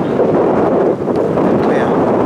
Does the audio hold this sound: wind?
yes